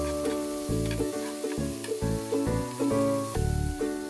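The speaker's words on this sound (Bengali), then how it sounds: "ভালোভাবে নেড়ে চেড়ে মিশিয়ে নিচ্ছি।" Tomatoes cooking in ghee for an egg dish are stirred in a pan, with a soft sizzle and rhythmic spatula scrapes and knocks about twice a second, close and without talk, over faint steady tones.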